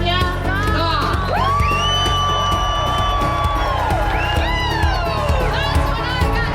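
A large crowd cheers at a rally, with whoops, shouts and yells rising over a dense, continuous roar. Loud and close throughout, with several high, sustained voices carrying above the mass of the crowd.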